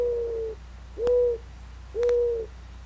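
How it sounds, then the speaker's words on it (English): A mourning dove at its nest gives three soft, low coos, each about half a second long and spaced roughly a second apart, close and clear against quiet background hum. "he too announces his time with a coo"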